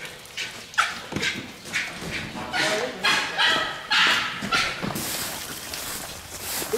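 Several hunting dogs chase rats through rubbish alongside mink, barking and yipping in repeated bursts with some whimpers, while someone talks encouragingly over them.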